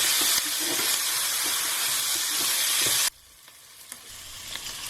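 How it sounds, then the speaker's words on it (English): Tomatoes stirred through a hot frying pot for masoor dhal give a loud, steady sizzle and hiss for about three seconds, then drop to a quieter, softer simmer with faint clinks. "we're just going to mix those tomatoes through just for a few seconds"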